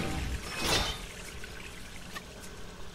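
A splashy pour of water in a video game as a character collects water, a brief burst near the start that fades into a quieter room-tone backdrop.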